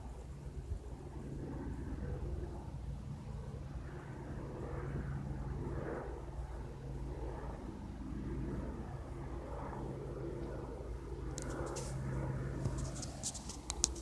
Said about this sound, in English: That was the police helicopter,